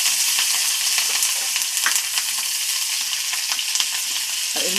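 Curry leaves and chopped chillies hit hot oil with a steady, close crackling sizzle, sharp pops scattered throughout, and a brief stir clatter at the end.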